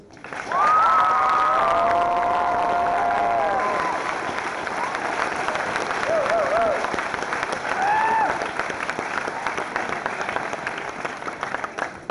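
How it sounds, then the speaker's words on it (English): A high school commencement crowd claps and cheers for the graduates, loud and sustained for several seconds, with scattered whoops and shouted voices over the dense applause before it slowly thins out. "Let's get another round of applause for my fellow graduates."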